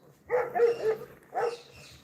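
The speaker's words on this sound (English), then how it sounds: "Got dogs barking." Dogs bark in two clustered bursts close by, a flurry of sharp barks followed by a shorter burst after a brief pause, with no talk over them.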